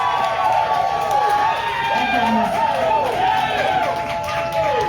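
Crowd at a heated city public meeting over a bus and bike lane plan cheering and clapping loudly, with shouts and whoops rising and falling over the clapping.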